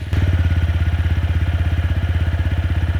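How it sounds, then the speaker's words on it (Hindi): A 2020 TVS Apache RTR 200 4V BS6 motorcycle, a 200cc bike, idles with a loud, close, rapidly pulsing exhaust thump at an even beat throughout, with no talking. "ये बेस्ट साउंडिंग 200 सीसी मोटरसाइकिल है"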